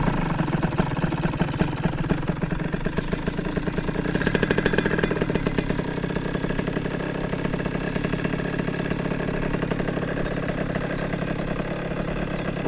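A 70cc moped with a KRM 70/80 exhaust idles while warming up, a loud, close, steady rapid putter with a fast two-stroke rhythm and slight revs partway through.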